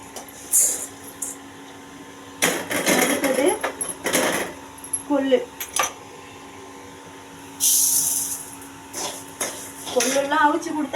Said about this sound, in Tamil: பாருங்கள் படப்படன்னு பொரியுது